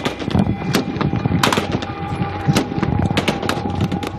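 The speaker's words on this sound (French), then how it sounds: "Au beau milieu de la visite, des échanges de coups de feu." An exchange of gunfire during combat, heard as dense, continuous crackling shots and bangs of varying loudness, some near and some more distant, layered over each other with no break.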